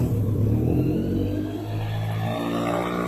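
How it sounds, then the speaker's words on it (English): A 1990 BMW K1 motorcycle engine, run on a little choke, rumbles loudly up close, its note rising under throttle and then settling to a steadier lower drone. "We'll see if we want to fire it up here."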